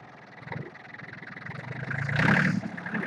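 Engine of a big green tractor running outdoors, a mid-pitched rumble that rises into a louder rev near the end before easing slightly, with no talk over it.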